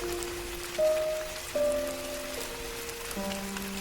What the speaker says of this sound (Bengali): সেদিন সকাল থেকেই চারিদিকে মুষলধারে বৃষ্টি হচ্ছে